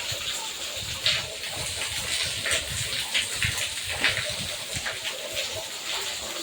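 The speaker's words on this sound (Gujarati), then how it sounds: "વરસાદ પડ્યો, કેટલો બધો ફાસ્ટ વરસાદ પડે" Heavy rain pours down steadily with water gushing and splashing nearby, a dense continuous hiss with scattered louder splashes throughout.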